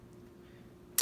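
A Remington Sportmaster 341-P rifle action ejecting a .22 Long Rifle cartridge gives one sharp, close metallic click after a moment of near silence.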